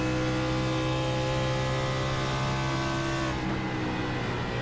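Race cars roar around the Kentucky oval in a racing video game, a pack of engines droning at steady high revs with a continuous whir that thins slightly near the end.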